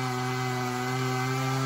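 A chainsaw cutting wood near a swamp with chicken houses: a steady, droning motor whine holds at one even pitch throughout, loud and close, with no voices over it.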